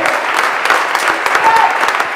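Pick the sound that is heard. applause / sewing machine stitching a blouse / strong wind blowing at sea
applause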